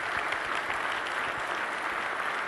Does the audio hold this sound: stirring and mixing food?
no